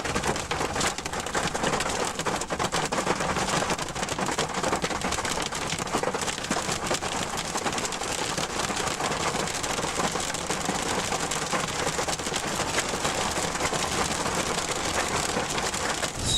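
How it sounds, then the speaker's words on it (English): Hailstorm over a rural road and paddocks gives a dense, steady roar of hail and rain pelting the ground and surfaces, loud and unbroken for the whole stretch, with no speech. "Still the occasional clunk of hail."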